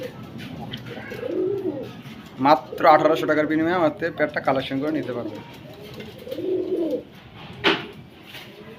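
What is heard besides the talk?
Hungarian Budapest pigeons cooing nonstop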